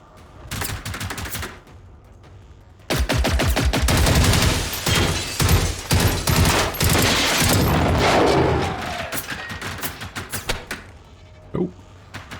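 Bursts of gunfire from a favoured gun in the video game Generation Zero, loud rapid volleys with a sustained barrage in the middle, then scattered shots tapering off.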